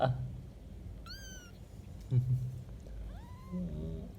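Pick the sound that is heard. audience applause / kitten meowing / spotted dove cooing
kitten meowing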